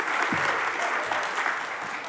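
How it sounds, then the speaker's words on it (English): Warm applause from a church audience, fairly soft and continuous, with a few low murmurs and brief voice sounds faintly mixed in under the clapping. "Do you want to give her a clap,"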